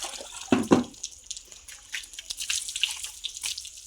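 Water poured over a bull during washing, a couple of splashing pours up front followed by lighter dripping and trickling, close by with no talk.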